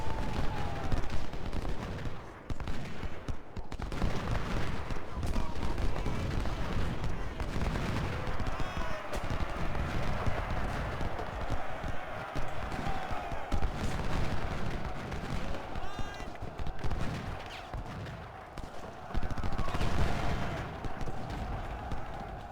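Continuous volleys of musket and cannon fire roll through the Civil War battle game Ultimate General: Civil War at Gettysburg, with dense overlapping gunshots and booms at steady loudness for over twenty seconds.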